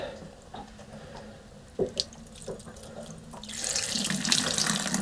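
Water pouring out while a boat's impeller cover is removed, with a few dripping splashes and clicks, then a louder continuous rushing flow near the end.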